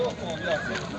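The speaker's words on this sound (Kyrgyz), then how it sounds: "Ана ат экен жаныбар." A horse neighs at the Sokuluk livestock market near Bishkek, one brief whinny up close over busy market noise with people talking nearby.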